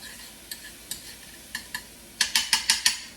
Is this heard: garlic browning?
yes